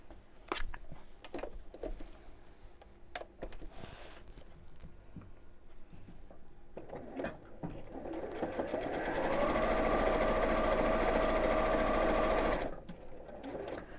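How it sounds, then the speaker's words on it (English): A sewing machine stitches around the edge of a cushion cover, first in short spaced bursts with clicks and handling noise, then in a steady, louder whirring run of about three seconds before stopping; close, with no talk. "I'm going to sew all the way around the edge from where I started sewing here, all the way around."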